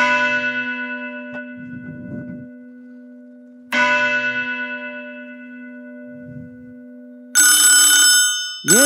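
A telephone rings loudly in two long bell-like bursts with a slowly fading tone between them, followed by a sharper electronic chirp near the end, during a comedy skit.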